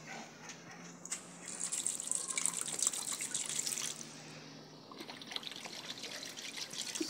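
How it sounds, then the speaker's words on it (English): Water is poured into a cooking pot at an outdoor kitchen while brown stew fish is prepared, a steady trickling splash that runs for several seconds, dips briefly, then resumes, near and alone. "I'm going to pour some water."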